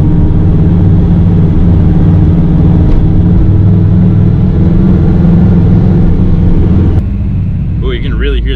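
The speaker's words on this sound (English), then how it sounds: "Oh, you can really hear that turbo." A turbocharged car engine roars loudly and continuously from inside the cabin with the window down, a steady droning rumble that cuts off abruptly near the end as a voice begins talking.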